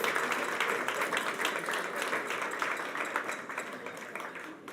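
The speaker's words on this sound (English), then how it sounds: "So give yourselves a big round of applause." Studio audience at an awards nominations event clapping steadily, a dense wash of applause held at moderate level throughout, fading slightly at the end.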